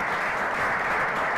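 Audience at a Black male development symposium panel discussion applauding, a dense, steady burst of clapping that fills the short moment without any talk.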